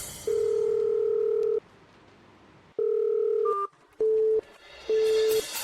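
A telephone gives a long steady dial tone while a call is placed, then a series of shorter tones and beeps follow, each separated by brief gaps.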